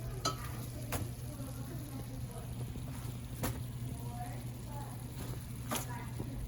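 Chapati cooking in an oiled pan on a stove, giving a steady low sizzle and frying hiss with a few sharp clicks of turning, under a constant hum.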